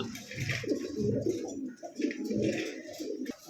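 Soft, repeated racing pigeon cooing close by, low throaty coos rolling one after another with faint chirps in the background.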